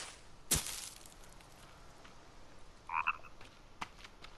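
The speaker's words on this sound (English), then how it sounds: "Very annoying frog you are." A frog croaks in The Forest video game: a short, fairly close ribbiting burst midway through, after a sharp click near the start, over quiet ambient background.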